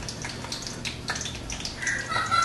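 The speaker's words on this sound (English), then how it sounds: "now you can hear the fat crackling in the background" Beef fat rendering into tallow for candles crackles and sizzles steadily in a pan, a dense, bright popping hiss at moderate level throughout.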